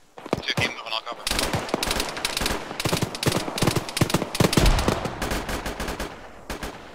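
Suppressive gunfire in a tactical military video game, with rapid machine-gun bursts and overlapping shots from several weapons, loud and close.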